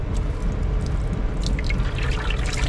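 Water splashes and trickles steadily as it pours out of a part from a flood-damaged Toyota Camry, with drips spattering over a constant low background rumble.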